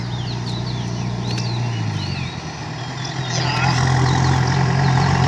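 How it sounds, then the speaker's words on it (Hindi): A truck-like vehicle approaches on a road with a steady, growing engine drone, the sound swelling louder toward the end, accompanied by faint beeping and birdsong in the background. "गाड़ी आ रहा है, एक्सीडेंट होने मत देना यार"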